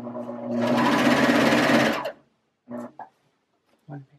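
A serger sews the edge of fabric for bowl cozies in one steady, loud whir lasting under two seconds, then stops; brief bursts of talk follow.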